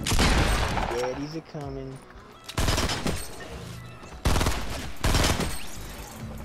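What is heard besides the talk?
gunfire in the video game Fortnite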